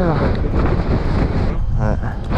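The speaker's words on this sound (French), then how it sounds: "Le vent se lève." Strong wind blows outdoors across the microphone at an abandoned site, a loud continuous roaring buffet that dips briefly and surges again, with faint voices underneath.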